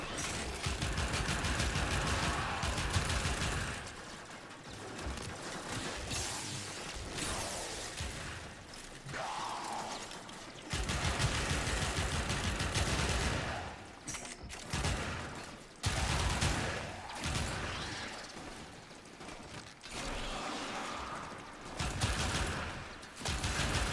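Warframe gunfire rattles in long, dense volleys of rapid shots mixed with mechanical clatter and impacts. Brief lulls break the loud barrage.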